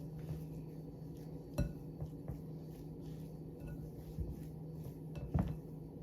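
Egg salad with paprika and cayenne being stirred in a bowl, soft irregular clinks and scrapes of a utensil against the dish over low background hum, close and faint, no voices.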